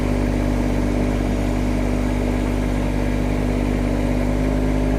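A Kubota GR series tractor engine runs steadily and loudly under power in four-wheel drive while making a tight turn, a constant close drone with no voices.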